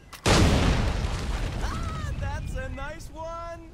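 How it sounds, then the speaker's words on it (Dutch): A loud boom of explosives blasts open a rock wall in Assassin's Creed III, followed by a long rumbling decay as a voice speaks over the tail end. "schiet op de explosieven om de weg vrij te maken"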